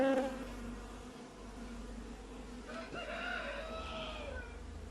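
Black honey bees from a recovered swarm buzz around a hive in a steady, dense drone that fills the air, with a few individual bees passing close.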